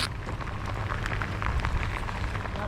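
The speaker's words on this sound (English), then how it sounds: "Right now it's just raining hard." Heavy thunderstorm rain pours down in a dense, steady hiss with no pauses, drumming continuously on surfaces.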